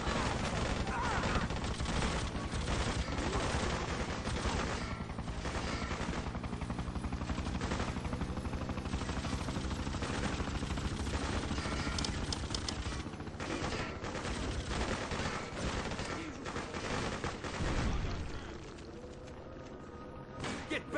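Dense, continuous gunfire volleys from a PC war video game battle, sustained automatic fire and explosions filling the whole stretch, loud and close with brief shouted voices mixed in.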